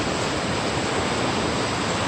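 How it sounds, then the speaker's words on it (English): Fast-rushing river water pours past in a steady, loud, close roar of broadband noise with no breaks and no voices. "The water current is so fast."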